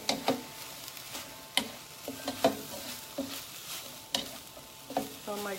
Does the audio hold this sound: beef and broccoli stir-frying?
yes